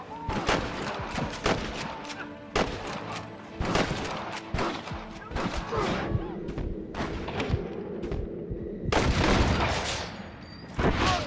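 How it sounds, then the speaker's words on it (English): Rapid gunfire rattles from a Gatling gun in the Western game Red Dead Redemption, loud bursts of repeated shots with short pauses between volleys, some booming thuds mixed in, and faint voices underneath. "You man the Gatling gun, Martin!"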